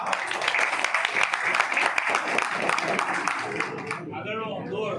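Applause from the audience at a staff union's annual general meeting, a sustained burst of many hands clapping that fades out over the final second.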